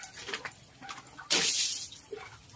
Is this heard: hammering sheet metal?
no